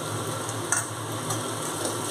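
Ginger paste frying in oil with onions for Bengali khichdi makes a continuous close sizzle, with a few light scraping stirs of a spoon against the pan.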